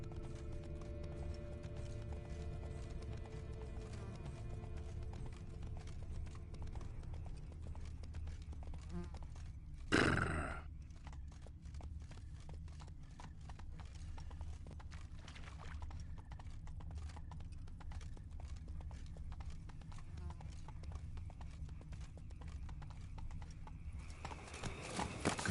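Continuous rhythmic clip-clop of horse hooves at a steady trot in The Witcher 3: Wild Hunt, fairly quiet, with a sharp clatter about midway and rising noise at the end.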